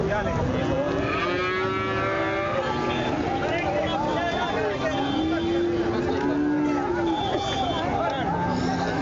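Many HF (Holstein Friesian) calves and cattle mooing and lowing continuously at a crowded livestock market, overlapping calls near and far under a steady babble of people talking.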